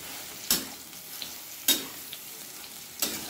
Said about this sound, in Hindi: और इसे अभी घी में फ्राई कर लेंगे और फिर छोंक लेंगे सब्जी।